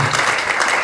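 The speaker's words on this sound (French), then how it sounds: "Acclamez très fort le Seigneur." A church congregation at a French-speaking Sunday service clapping loudly together, a dense, close burst of applause with no talking.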